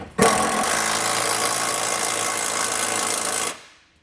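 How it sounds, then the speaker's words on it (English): A power socket wrench whirs steadily for a few seconds tightening 19mm nuts on a trailer hitch on a 2018 Subaru Outback Wagon, starting abruptly and cutting off, a loud continuous buzzing drive close by. "we need to come back with a 19mm socket and snug them down"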